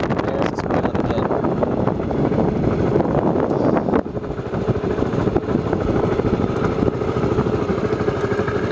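Suzuki Burgman scooter engine running steadily up close as the rider turns it around, with continuous wind buffeting over the microphone and no talk.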